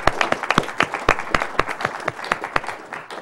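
Sparse clapping from a small group, individual claps sharp and close, irregular but steady for a few seconds, at a live Kid Icarus NES speedrun event.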